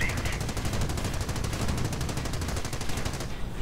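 Dense, rapid machine-gun fire rattles without a break in a video game battle involving an Ostwind anti-aircraft tank and a flamethrower half-track, with artillery blasts mixed into the close, continuous barrage.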